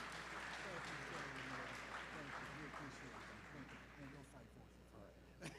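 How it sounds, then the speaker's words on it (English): Applause from a crowd at a grand opening ceremony for a Goodwill campus, steady and fairly quiet, mixed with murmuring voices and a low hum, tapering slightly near the end. "Applaud these fine people."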